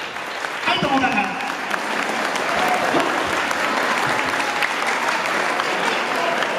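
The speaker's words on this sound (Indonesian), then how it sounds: "Ayo tepuk tangan." Students at an event at the Al-Mubarok Lanbulan Islamic boarding school break into loud, dense clapping that carries on steadily, with voices faintly mixed into the applause.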